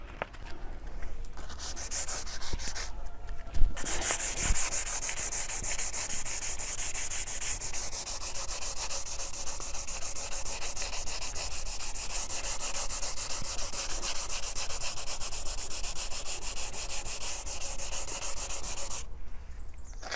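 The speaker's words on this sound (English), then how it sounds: "we're going to start with 180 sandpaper." Steady, continuous abrasive rubbing of 180-grit sandpaper over a scratched car bumper, close and loud for about twenty seconds with brief pauses near the start and end.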